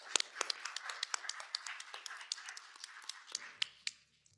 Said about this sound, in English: let's just give a round of applause for everybody here